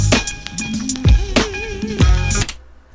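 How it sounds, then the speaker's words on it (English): A drum beat plays back from Pro Tools 5 on a vintage Mac OS 9 rig, with strong low hits landing about once a second over a steady bass and melodic line, clear and close with no talking. "So let's take this little drum beat here."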